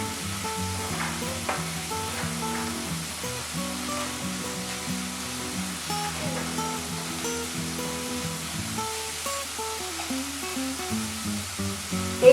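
Spices (turmeric, coriander powder, garam masala) sizzle and hiss in a frying pan as they are stirred, a steady close-up crackle with spoon scrapes running throughout.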